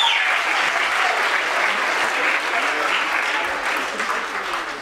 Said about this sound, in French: vos applaudissements, merci